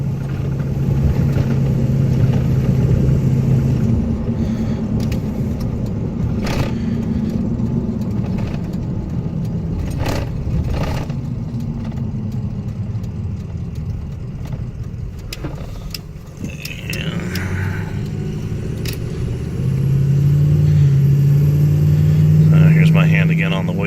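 A 2003 Ford F250 FX4 4x4 Powerstroke diesel truck cruising at about 45 to 50 mph, with a steady low engine and road rumble throughout, swelling louder near the end, while someone talks over it.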